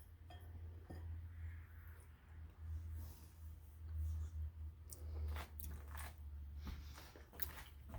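Biting and chewing of sheet pan beef at a taste test, soft close mouth sounds with faint crunches and a few small clinks, quiet and steady, with no talking.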